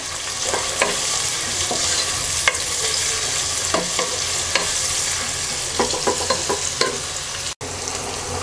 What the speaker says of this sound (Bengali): এবার পেঁয়াজটাকে হালকা ভেজে নেব।